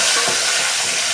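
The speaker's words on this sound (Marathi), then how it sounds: "लसण जिरे चांगले फ्राय करून घेऊन त्यामध्ये टोमॅटो टाकून घेऊ" Tomatoes frying in oil with garlic and cumin make a loud, dense sizzle right up close, with a soft stirring scrape partway through and nobody speaking.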